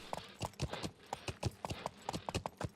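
Steady clip-clop of horse hooves in a video game, a brisk, even trotting rhythm, fairly close and moderately loud with no talking.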